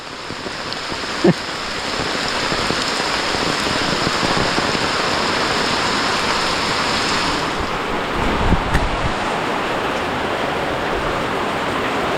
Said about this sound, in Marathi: पाऊस म्हणजे वाढतच जातो